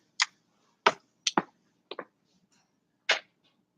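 A pen writing on paper makes a handful of short, sharp scratchy strokes and taps, close and fairly quiet, separated by brief pauses and with no voices.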